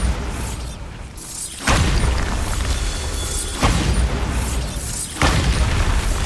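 Three heavy booming spell blasts from the Bombarda curse in the Hogwarts Legacy game, evenly spaced, each a loud broadband burst over a steady rumbling background.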